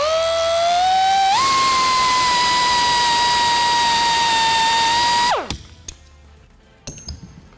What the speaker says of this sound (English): you can see those came right out once you drill them a little bit